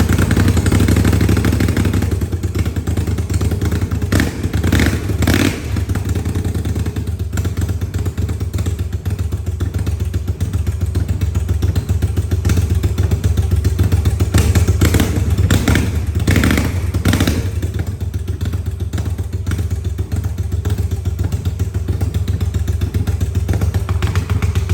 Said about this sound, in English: I will show you now the sound of this bike without any muffler.